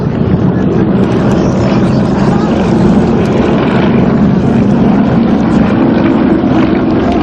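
Aerobatic team aircraft roar loudly and continuously overhead at an airshow, a dense, steady engine drone with no break.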